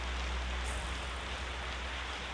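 Steady rain falling outdoors at the Gunung Selok nature park, a soft even hiss with no breaks throughout and no voices.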